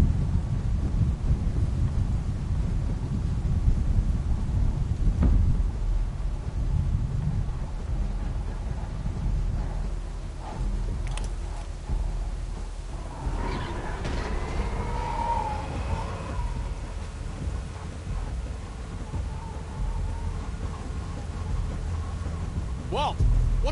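Stormy wind and rain roar steadily in The Walking Dead game, with low thunder-like rumbles, while characters talk over the weather and a whirring mechanical tone rises partway through.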